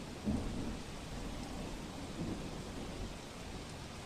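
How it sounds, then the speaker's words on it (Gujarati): Heavy rain pours down in a dense, steady hiss during a downpour, with low rumbles of thunder rolling in near the start and again partway through. "વહેલી સવારથી જ વરસાદે અનરાધાર બેટિંગ કરી છે"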